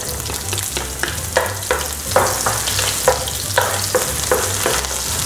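Red onions hit hot oil in a pan and sizzle steadily while being stirred, with rhythmic scraping strokes of the spoon cutting through the constant frying crackle, close up and without talk.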